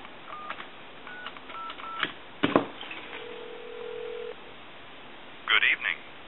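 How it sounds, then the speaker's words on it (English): A Crosley wood wall speakerphone under repair gives a steady dial tone through its handset, followed by a quick series of touch-tone dialing beeps on a telephone line, clear and close. "Give you some dial tone. And I'll dial a time and temp number."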